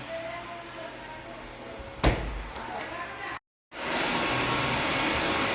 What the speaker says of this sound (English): vacuuming the fake grass